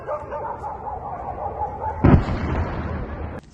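A heavy boom bursts out partway through during a night drone attack on an oil refinery in Volgograd, a sudden loud thud with rumbling tail, after steady background noise; a dog barks nearby.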